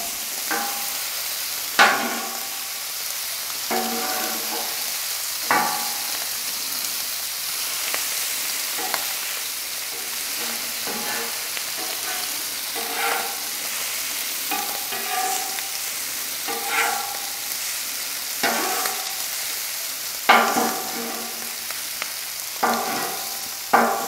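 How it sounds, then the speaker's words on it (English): Onions and cabbage frying on a Camp Chef FTG600 griddle, a steady close sizzle broken by repeated scraping and clacking strokes as a spatula stirs them together, with no talking. "I'm going to go ahead and mix our onions and cabbage together here."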